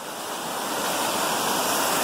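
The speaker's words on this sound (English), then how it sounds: "got you a canyon of a waterfall there" A waterfall in a canyon in Maine rushes with a loud, continuous roar that stays steady from start to end, with no voices over it.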